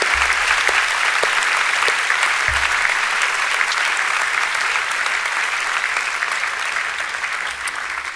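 A large audience at a 2018 graduation ceremony claps steadily for several seconds, a dense, even wash of applause that fades slightly toward the end.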